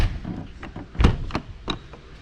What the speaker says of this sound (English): Close your exterior door.